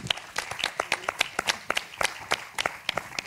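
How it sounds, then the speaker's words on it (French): Scattered applause from an audience closing a round-table discussion, individual claps sharp and uneven, fairly close and moderate in level, with no speech over it. "il me reste à vous remercier, à vous applaudir aussi."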